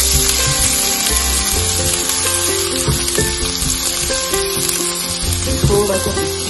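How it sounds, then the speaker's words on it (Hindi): Crushed garlic sautés in hot oil for a Chicken 65 recipe, giving a steady, close, fairly loud sizzle with faint stirring scrapes and no talking. "हम सबसे पहले अपना जो हमने क्रश किया हुआ हमारा जो गार्लिक है वो हम इसमें डालने लगे हैं। सौटे करेंगे।"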